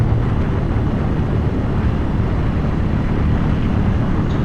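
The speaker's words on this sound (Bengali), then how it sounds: "বাতাস লাগতেছে, ভালো লাগতেছে।" Steady wind buffeting the microphone during an evening ride along the 300 ft road in Dhaka, a constant loud rush with low rumble, no voices.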